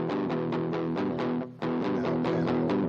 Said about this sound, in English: I inserted the effect to record the guitar track when I was doing the recording